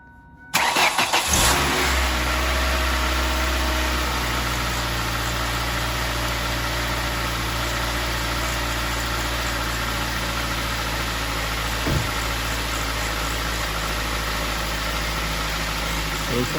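A 2002 Ford Focus engine cranks and catches after a moment of quiet, then settles into a steady, loud idle with a constant low hum for the rest of the clip. A faint brief thump comes partway through.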